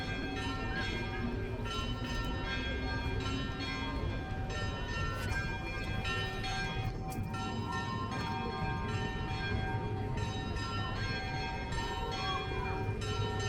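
Bells calling to prayer ring steadily in the distance over a continuous outdoor hum in Ksamil, Albania, a layered tolling that never stops.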